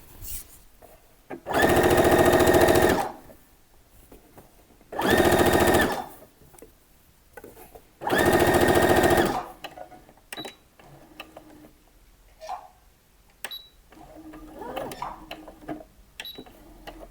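A sewing machine stitches a summer dress in three loud bursts of rapid mechanical chatter, each a second or so long, separated by pauses filled with faint handling clicks and fabric rustle.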